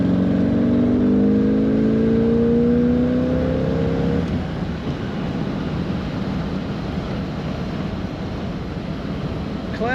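A 1974 Chevrolet Corvette C3 convertible drives by: its engine revs climb for about four seconds, then give way to a steady, broad road and wind roar.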